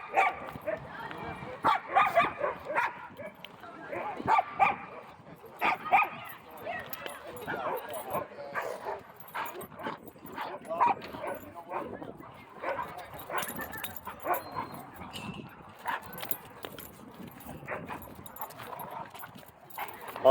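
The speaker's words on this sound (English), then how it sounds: "Oh, we got a Great Dane right there." A Great Dane, still a puppy, barks with yips and whimpers at a dog park entrance amid other dogs, the barks coming in scattered bursts at moderate distance under continuous people talking nearby.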